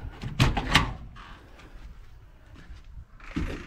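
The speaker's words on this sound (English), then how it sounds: "Yeah, I just opened the door, so it's dropping." A shed door opening: a couple of loud knocks and a rattle up front, then a soft scrape and a final creak or bump near the end, with no talk.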